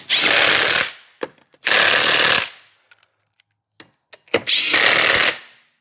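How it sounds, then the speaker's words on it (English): Pneumatic impact wrench (rattle gun) on the wheel nuts of a stolen 2023 MG3 being restored, loud and close: three long rattling hammering bursts of about a second each, separated by brief clicks, knocks and short blips, with no talk. "Rattle guns and wheel nuts."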